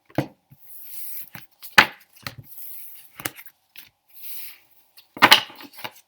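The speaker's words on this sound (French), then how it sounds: "Donc on coupe le tas en 3 paquets." A druid tarot deck cut into three piles on a table, heard as a few crisp close taps and slaps of cards separated by quiet gaps.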